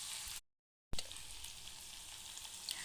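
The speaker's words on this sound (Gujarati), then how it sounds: "આદુ ને લસણ છે, મરચાં છે, બધું સરસ રીતના સતળાઈ જાય" Ginger, garlic and chillies sauté gently over a low flame with a soft, even sizzling hiss, cut off briefly by a short silent gap before the frying resumes.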